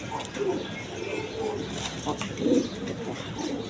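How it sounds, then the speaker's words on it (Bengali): A pair of king pigeons, one sitting on eggs at a farm, give soft low coos in a few short bursts, moderately near, with faint background chatter and other birds. "এইখানে এক পেয়ার কিং কবুতর আছে"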